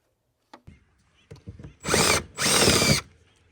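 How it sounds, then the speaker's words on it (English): Two loud bursts of a power drill boring through the metal roof of a Honda Element, close up, preceded by a few clicks and knocks of handling. "what we're doing is drilling out the roof where we're gonna put the nut certs"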